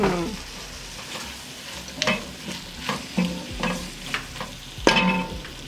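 Zucchini cooking in a pan, soft continuous sizzle punctuated by several sharper clicks and stirring scrapes at close range.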